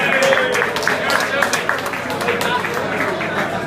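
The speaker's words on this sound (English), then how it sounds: "Round of applause for Ed and Susan." Post-match audience at a Kilcooley sports gathering giving a round of applause, dense steady clapping mixed with crowd murmur throughout.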